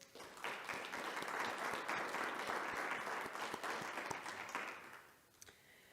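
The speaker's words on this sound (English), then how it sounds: "Audience, please give a round of applause to our candidates." Audience applause at a school board candidate forum, steady clapping from a seated crowd that fills nearly the whole stretch and tapers off near the end, with no talk over it.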